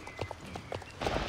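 A horse's hooves clip-clop in the Star Stable video game, a few soft, evenly spaced footfalls at moderate distance, with no talk over them.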